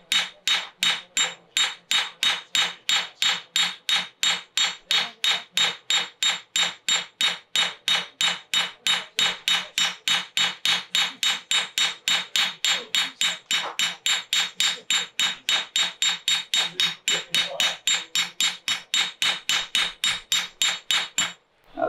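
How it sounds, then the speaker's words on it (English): A round ball peen hammer strikes a sheet brass buttplate for a muzzleloader in fast, even blows, dozens of bright metallic rings close up and loud, with no talking. "show you what happens with the round hammer, the ball peen hammer,"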